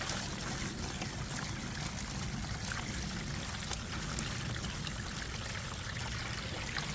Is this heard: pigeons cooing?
no